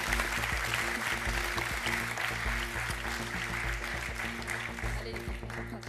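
A TV game show studio audience applauds a team's points, a steady, moderately loud patter of many hands clapping under a low hum.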